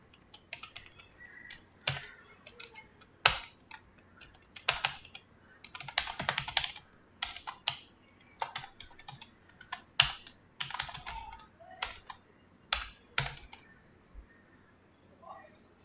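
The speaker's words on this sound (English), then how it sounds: "I will give more importance to typing rather than copy pasting or using the existing stuff" Someone typing code on a computer keyboard, close and fairly quiet, with scattered individual keystrokes and short clustered bursts separated by pauses, with no voices.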